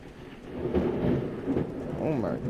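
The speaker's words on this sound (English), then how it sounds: "Oh my God, the thunderstorm's getting crazy." A thunderstorm in the Alan Wake Remastered game: a steady, rumbling wash of rain and thunder with low rolling swells, fairly loud and continuous.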